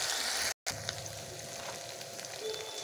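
Cumin with ginger and garlic paste frying in a pan, a steady, moderately quiet hiss and crackle that runs on throughout, broken by one brief moment of silence near the start.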